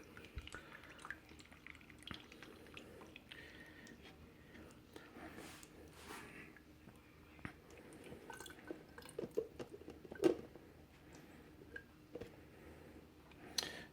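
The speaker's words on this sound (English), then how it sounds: "we're going to pour our juice through the strainer so that way it removes as much of any leftover pith as possible" Freshly squeezed orange juice drips through a kitchen strainer, faint soft patters and ticks scattered over a quiet background, a few sharper drops standing out midway.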